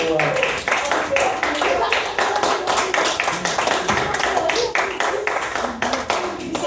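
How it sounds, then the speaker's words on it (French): Audience applause in a crowded room: a steady patter of many hands clapping throughout, mixed with voices and cheering. "on va nous donner une main d'acclamation"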